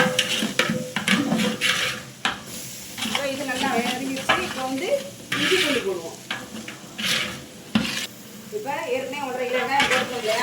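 Half a kilo of small onions (shallots) sizzles in a pan for Bakrid biryani, with steady frying hiss and scraping stirs, heard close under a person talking.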